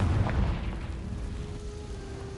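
A Confringo blasting spell going off in the game Hogwarts Legacy: a single short, low burst right at the start that quickly fades into a faint rumbling tail.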